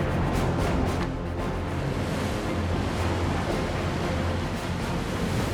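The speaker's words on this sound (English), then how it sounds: "you can see how high the waves are" Large 3–4 metre Arctic ocean waves and strong wind at sea, a dense continuous roar of surf and wind buffeting the microphone, loud and steady throughout with no voices.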